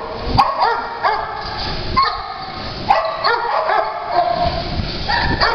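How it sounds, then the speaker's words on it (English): A three-year-old dog barks and yips in short, repeated bursts, fairly close, with a few whimpers between the barks and no talk over them. "He's a very trainable and happy-go-lucky dog."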